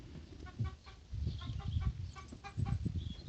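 Backyard chickens cluck close by in short, repeated bursts, a busy chatter of several hens with no voices over them.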